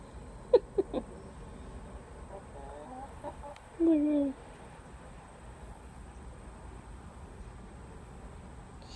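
A calm backyard hen gives a few soft, close clucks and a short drawn-out croak on a hobby farm, with long quiet stretches between the sounds.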